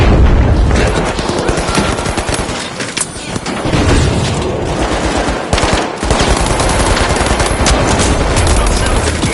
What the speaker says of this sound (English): Outgoing frag grenade!